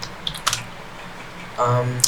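A few sparse, light clicks from a computer keyboard while a command is typed in a Linux shell, with a brief burst of voice near the end.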